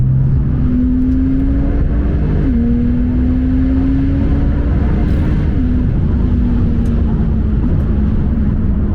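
Porsche 991.2 Turbo S with its muffler removed and a stage 1 engine remap, accelerating hard in a loud, continuous pull whose steady drone climbs in pitch and breaks briefly at shifts.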